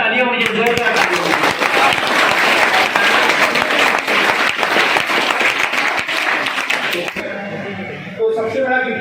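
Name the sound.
audience applauding loudly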